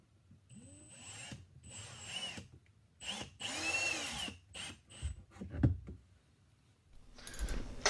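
A power drill drives pocket screws into a wooden frame in a workshop, in several short, sharp bursts separated by quiet pauses, close and clear.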